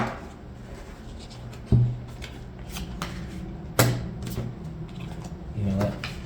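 Tarot cards being shuffled by hand, soft riffling and slapping bursts with a few sharper knocks, close up, while a voice speaks quietly underneath.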